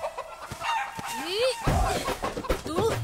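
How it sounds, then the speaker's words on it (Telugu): A chicken clucks and squawks in a comedy scene, sharp rising calls and short clucks close by, with people talking and moving around amid the commotion. "కోడిని పట్టుకోవాలా?"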